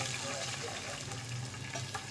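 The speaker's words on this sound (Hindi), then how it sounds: "अब इसके अंदर हम पानी ऐड करेंगे," Water is poured into soaked rice in a pot while making zarda, a sweet rice dish, giving a faint, steady splashing hiss that runs unbroken through the moment.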